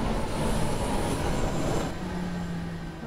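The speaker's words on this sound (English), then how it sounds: "running the S1 train to Dortmund" The S1 train in the Train Sim World game on the Rhein-Ruhr line toward Dortmund runs with a steady, loud broadband rumble. It eases slightly partway through, and nobody speaks.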